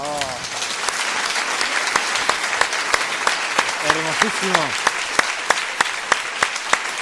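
Live radio studio audience applauds steadily, a dense continuous clapping with sharp individual claps popping through, while voices speak briefly over it near the start and middle.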